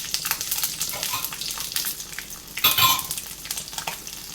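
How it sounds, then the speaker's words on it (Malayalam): Mustard seeds and cumin hit hot oil in a pan for a pumpkin coconut milk curry, crackling and popping in quick irregular bursts with a steady sizzle beneath and a louder flurry of spluttering partway through. "നമുക്ക് എണ്ണയിലേക്ക് കുറച്ച് കടുക് ഇട്ട് കൊടുക്കാം. കടുക് പൊട്ടുന്ന കുറച്ച് ജീരകം കൂടെ ചേർത്ത് കൊടുക്കാം."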